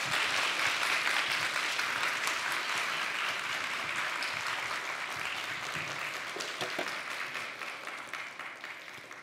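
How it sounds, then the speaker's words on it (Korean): A church congregation applauds warmly to welcome a visiting pastor, steady dense clapping that fills the space and fades slightly toward the end, with no talking. "큰 박수로 마음을 담아서 환영해 주시기 바랍니다."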